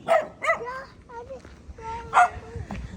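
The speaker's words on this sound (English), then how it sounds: "You're barking and you're wagging your tail." A dog barks in short, sharp yips and whimpers nearby, several quick calls in a row, while a person's voice is faintly present.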